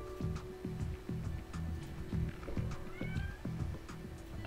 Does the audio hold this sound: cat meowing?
yes